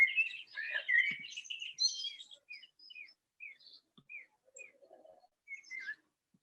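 Small birds chirp and twitter close by, a busy burst of song at first, then sparse single high tweets with brief silences between.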